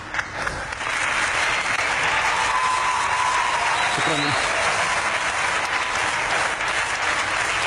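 An audience gives sustained, dense applause for Palestinian poet Tamim al-Barghouti after his recital of the poem "Al-Quds". The clapping stays loud and even throughout, after a brief spoken word at the start.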